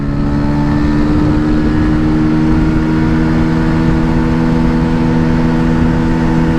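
Bajaj Pulsar 125 motorcycle, a 2023 model, revving steadily and loudly up close as it accelerates through the gears, its engine drone holding strong and unbroken with no voices over it.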